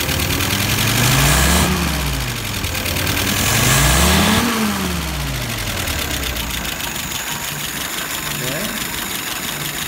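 A healthy car engine idles steadily close by, with two smooth revs rising and falling early on before settling back to an even idle; a person speaks briefly over it.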